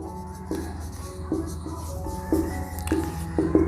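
Pen or chalk scratching out a maths proof on a board or page, a series of short strokes and taps getting gradually busier, close and fairly quiet, with no talk.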